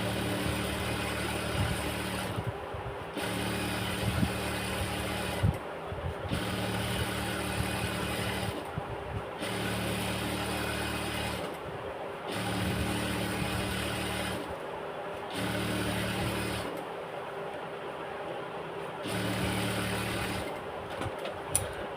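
A sewing machine stitches and joins an elastic waistband in a tailoring shop, running in repeated bursts of a few seconds each with short pauses between. The motor hum and needle chatter are close and moderately loud, with no voices.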